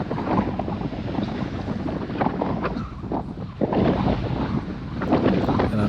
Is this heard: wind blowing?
yes